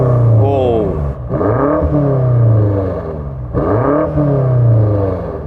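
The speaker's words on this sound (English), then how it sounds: "Now let's hear the BMW rev." A BMW M5 engine revs while the car sits stationary, climbing twice in rising sweeps and falling back between bursts, loud and close against a soft limiter near 5,000 RPM.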